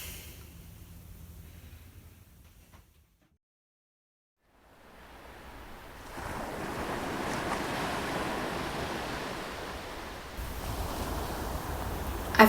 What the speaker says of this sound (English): I try and stay neutral, to blend into the rumble of the ocean that drowns out his thoughts